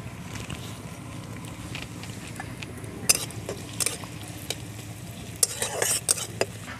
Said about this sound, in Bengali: কড়াতে দিয়ে দিচ্ছি সর্ষের তেল, তেল গরম হয়ে গেছে, দিয়ে দিচ্ছি পেঁয়াজ কুচি।